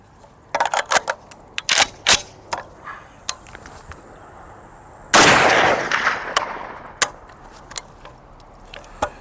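An FAL rifle fires a single round from an Austrian magazine, one sharp loud shot amid clicks and rattles of handling before and after.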